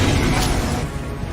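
A fiery burst of the Incendio spell in Hogwarts Legacy, a dense roaring whoosh that fills the whole moment at close range and tails off slightly at the end.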